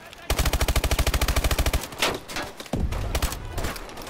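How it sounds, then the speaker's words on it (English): A shotgun fires in Call of Duty Advanced Warfare, but the shots blur into a fast, evenly spaced burst of about twenty loud reports. A couple of sharper blasts follow amid game noise. "Shotgun."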